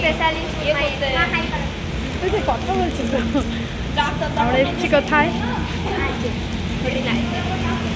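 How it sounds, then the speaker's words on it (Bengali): Heavy rain pours down in a steady, dense hiss while people talk over it throughout. "এত বৃষ্টি ঝমঝম ঝমঝম করে পড়ছে"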